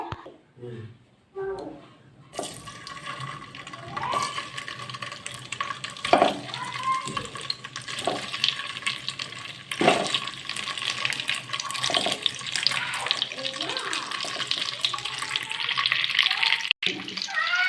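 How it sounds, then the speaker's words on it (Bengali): Pitha dumplings sizzling in hot ghee in a kadai, a steady loud hiss and crackle that starts a few seconds in and runs to the end, with someone speaking over it. "এই পিঠেগুলো আমি ভাজবো এবারে কড়াইয়ে দিয়ে দেবো"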